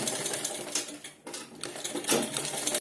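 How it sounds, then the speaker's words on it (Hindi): A sewing machine stitching a belt onto a blouse, running in a close, steady mechanical whir with a brief pause midway before it resumes, with no talking. "अब दोस्तों यहां से हम एक और सिलाई चला लेंगे"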